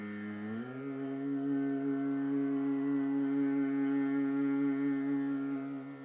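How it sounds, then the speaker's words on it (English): A single steady chanted hum rises slightly in pitch at the start, then holds a long, even drone for several seconds before tapering off, with no talking. "This is called the Omkar or the Om sound."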